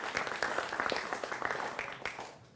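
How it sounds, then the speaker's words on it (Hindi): A studio audience at a Hindi television news debate gives a brief round of applause, a soft, dense patter of many hands that fades toward the end. "जोरदार तालियों से इनका भी अभिनंदन करिए।"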